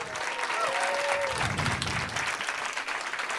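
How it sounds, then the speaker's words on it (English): An audience applauds storytellers at the end of a storytelling night, a sustained, even wash of clapping from a room full of people. "And please give a round of applause to all the storytellers tonight."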